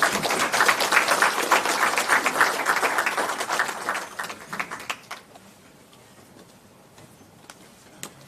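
An audience at a provincial research colloquium applauds the Honorable MEC: dense, loud clapping that thins out and fades to a few scattered claps and quiet room tone.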